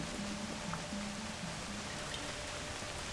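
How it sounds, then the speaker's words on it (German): Rain in the video game Kena: Bridge of Spirits, a soft, even hiss of falling rain that stays constant throughout, with a faint low hum beneath it and no talking. "Und es regnet."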